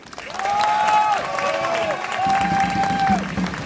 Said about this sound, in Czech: Ještě jednou potlesk pro Alžbětku